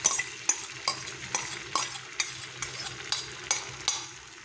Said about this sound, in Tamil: ரெண்டாவது ஆம்லேட் ஊற்றுறாங்க பாருங்க. இப்போ 2வது ஆம்லேட் ஊற்றிக்கலாம்.